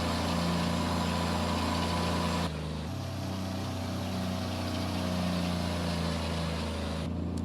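Truck engine idling in American Truck Simulator, a steady low drone that drops briefly quieter partway through, with no talk.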